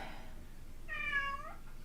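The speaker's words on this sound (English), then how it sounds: "If you guys heard a meow, that was Sassy" A house cat meows once, a short clear call near the microphone over quiet room tone.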